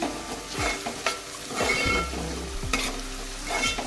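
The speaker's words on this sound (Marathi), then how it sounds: "आता आपल्याला कांदा चांगला शिजवून घ्यायचा आहे" Onion frying in a pan with bay leaf and cinnamon while being stirred: steady soft sizzle broken by several scraping stirring strokes, close and fairly quiet, with no talk.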